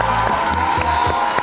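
A crowd applauds and cheers at a high-school quiz final in Cocody, Abidjan, a dense wash of clapping with a few whoops rising over it.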